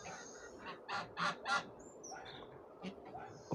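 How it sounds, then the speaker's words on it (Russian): Several loud, nasal goose honks in a short close burst near the start, then quieter calls and faint background noise. "Об этом гусе я говорю"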